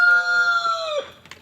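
A rooster crows nearby, one long, loud, sustained call that drops off sharply at the end, followed by faint background noise.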